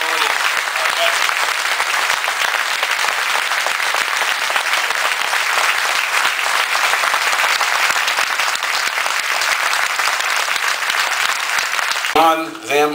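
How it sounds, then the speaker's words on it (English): An outdoor Veterans Day ceremony crowd gives a long, loud, steady round of applause that holds evenly throughout, with a voice breaking in right at the end. "We owe them another round of applause for stepping up and supporting our veterans."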